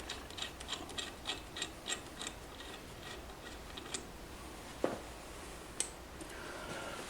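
A tool works the ignition nut off a 50cc moped engine, making a run of quick, regular ratcheting clicks followed by a few scattered metallic taps and scrapes. The sound is close, fairly quiet and has no talking.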